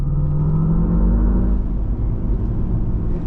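Hummer EV's artificial motor sound in off-road mode, a low synthetic rumble and whir that stays constant and loud throughout, close inside the cabin with no talking.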